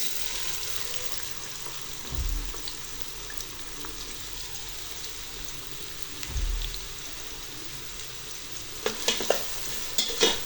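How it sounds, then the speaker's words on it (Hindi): Chopped onions fry in hot ghee inside a pressure cooker, a steady moderate sizzle with two low thuds partway through and a cluster of sharper spatters and scrapes toward the end; no voices. "प्याज को घी में 2 से 3 मिनट तक फ्राई करेंगे।"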